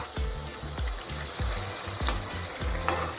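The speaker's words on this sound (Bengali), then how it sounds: "আর এই চিকেনগুলোকে কিন্তু এর মধ্যে ভালো করে ভেজে নিতে হবে" Chicken fries in a karahi with a steady sizzle, while a spatula scrapes and stirs in a regular rhythm, each stroke thudding against the pan, close up with no one speaking.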